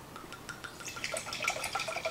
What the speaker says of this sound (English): Giving it a deep pour because I think this is going to be a lot of fun